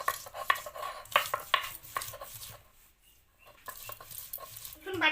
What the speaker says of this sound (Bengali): এবার আমি রসুন বেটে নিচ্ছি।